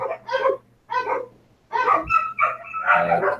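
Dogs bark in short bursts close by, with a brief pause, then a rapid run of overlapping barks and yips over a faint background hum.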